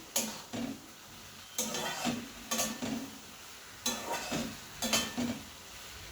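Mustard spice paste fries in oil in a pan while being stirred, giving bursts of scraping and sizzling that come and go in a steady rhythm, close up with no talking.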